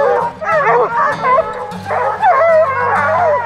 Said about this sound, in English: I'm gonna grab these dogs and head off here.